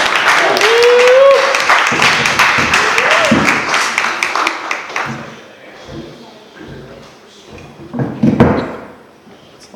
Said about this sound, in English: Please give a round of applause for Sunil Persaud.